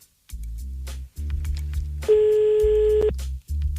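A telephone call rings through toward an answering machine: two low ringback tones, then a steady long beep, then the low tone returns, loud and clean with no talking.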